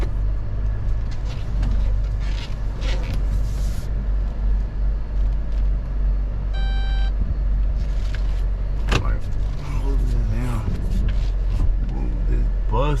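An old, battered car's engine idles with a steady low rumble throughout, joined by brief mechanical whirs and clunks, while people talk over it.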